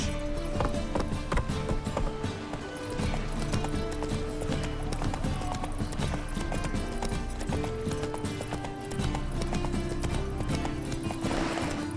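Geralt's horse Roach galloping in The Witcher 3 on PS5, a continuous rhythmic drum of hooves with occasional snorts, steady and close throughout, set against game music.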